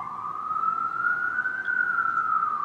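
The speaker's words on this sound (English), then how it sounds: "You can hear the sirens outside." An emergency vehicle siren outside in New York City, one long smooth wail rising and then falling, heard at a moderate distance with no talk.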